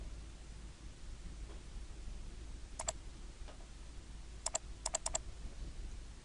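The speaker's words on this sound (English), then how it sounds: "So let me go ahead and type trim." Several sharp key clicks on a computer keyboard, a short isolated tap followed by a quick cluster of keystrokes, faint against a steady low hum and hiss in a quiet room.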